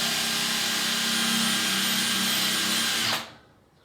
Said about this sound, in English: we're drilling right on the edge of the tile